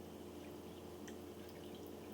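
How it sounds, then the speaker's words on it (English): Beef broth poured from a pot into a quart canning jar for pressure canning a beef roast, a faint, steady liquid trickle with light dripping that runs the whole time and stays quiet and close. "I'm going to pour that into my first jar"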